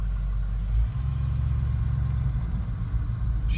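A Jeep Grand Wagoneer engine turns over, then idles with a steady low rumble up close, with a faint click near the end.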